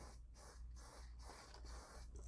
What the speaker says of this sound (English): It's just spray, right?